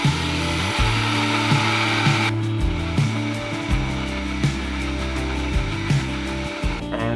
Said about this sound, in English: it's very hard to actually drill on this surface